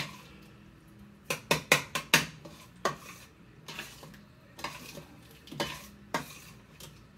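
Spoon scraping and clinking against a pot while flour is stirred into thickening roast beef gravy, a quick burst of sharp knocks followed by slower, scattered strokes, close and fairly quiet with no talk.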